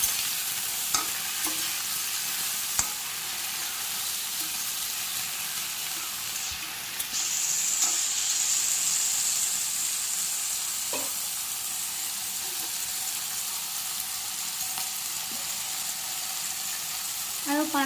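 Spices and salt are stirred and fried in a pan for a Malabar spinach stem dish, giving a continuous close sizzle with scraping spoon strokes and occasional light clinks.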